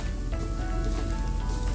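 Shrimp and broccoli egg fried rice hisses and crackles loudly and continuously in a hot pan as green onions are stirred in, a close, dense sizzle with no voices.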